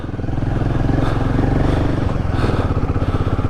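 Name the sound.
Royal Enfield Himalayan motorcycle engine off-roading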